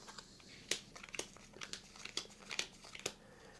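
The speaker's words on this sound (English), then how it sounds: "So I'm going to deal out 6 cards to the other 2 players." Cards from the Family Guy Stewie's Sexy Party card game are dealt one after another onto a table, six to each of two players, making a quick run of soft, close, papery snaps and slaps.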